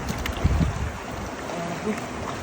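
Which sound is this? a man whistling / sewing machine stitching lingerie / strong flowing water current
strong flowing water current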